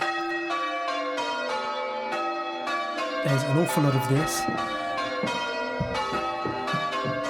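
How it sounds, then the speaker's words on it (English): Church bells at St Mary the Virgin, Rotherhithe, are rung by a team in a steady sequence of overlapping, resonant peals, with a person speaking briefly over them. "What can I tell you about bell ringing?"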